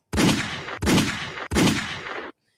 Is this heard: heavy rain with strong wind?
no